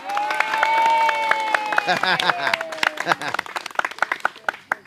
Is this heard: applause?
yes